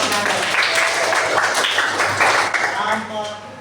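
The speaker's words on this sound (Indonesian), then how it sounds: "beri tepuk tangan untuk kelompok 1" Classroom applause for a group of students after their presentation in a school lesson; continuous clapping from a room of people mixed with voices talking over it.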